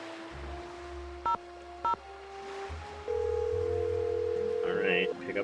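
Cell phone number being dialed in the Nancy Drew video game Danger on Deception Island: two short, loud keypad tones stand out near each other over a steady hum, followed by a long ringing tone.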